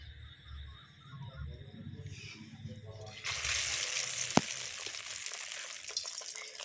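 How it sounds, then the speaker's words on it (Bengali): Egg-dipped pointed gourd pieces drop into hot oil, and a loud bright sizzle starts partway through and carries on steadily with one sharp crackle, after some earlier low talk and handling noises. "পটলগুলো নিয়ে এবারে ডিমের মধ্যে দিয়ে একটা একটা করে আমি তেলের মধ্যে ছেড়ে দেব।"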